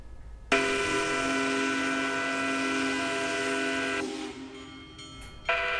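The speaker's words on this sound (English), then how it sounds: "The world's largest steam locomotive passed through downtown Grand Island this afternoon." Union Pacific Big Boy 4014, a huge steam locomotive passing through downtown Grand Island, Nebraska, blows a loud, sustained chime whistle for several seconds before it cuts off, then a brief second blast.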